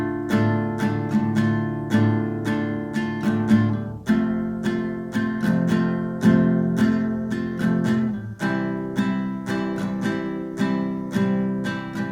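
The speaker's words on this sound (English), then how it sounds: "we're going to use the strumming pattern twice for each chord" An acoustic guitar plays a steady strumming pattern twice on each chord of a song, with bright, even strokes in a continuous rhythm and a chord change every few seconds, close and clear.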